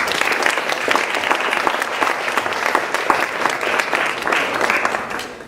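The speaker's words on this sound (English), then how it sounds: "So please, in her absence, a round of applause for Vanessa." A graduation ceremony audience breaks into dense, loud applause that holds steady throughout with no speech over it.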